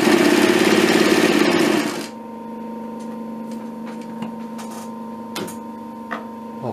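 A Pfaff 335 binding sewing machine stitches through 3 mm thick leather, running loud and fast for about two seconds before stopping. A low hum and a few faint ticks and clicks follow.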